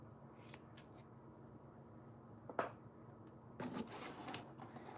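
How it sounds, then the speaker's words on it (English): Scissors snipping through decorating material for a dollhouse, a few quiet crisp cuts close by in an otherwise hushed room. "Scissors."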